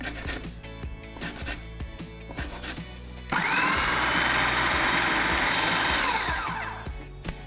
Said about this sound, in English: And then we're just going to zest in 2 lemons as well.